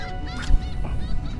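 Seabirds call in harsh, honking bursts while feeding over schooling bait fish on an inshore saltwater flat, several overlapping cries close by with wind and water noise underneath.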